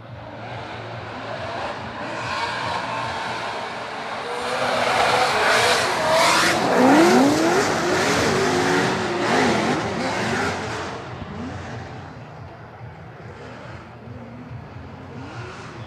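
Turbocharged drift car at a Long Beach drift event, engine revving up into a loud, sustained roar with tire squeal in the middle, then easing back to a quieter drone.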